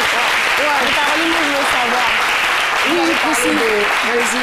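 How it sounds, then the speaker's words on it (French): A French TV talk show studio audience applauds steadily, a dense wash of clapping while voices talk and call out over it throughout. "si le public n'applaudit pas, moi, j'applaudis"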